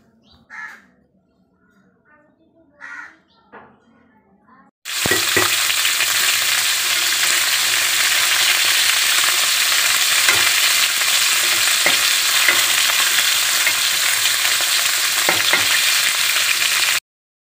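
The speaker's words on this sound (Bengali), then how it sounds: "আগে মাছটা আমি নুন হলুদ মাখিয়ে ভেজে নেব" Fish rubbed with salt and turmeric frying in hot oil, a loud continuous close-up sizzle that begins abruptly and runs steadily, preceded by a few crow caws in the distance.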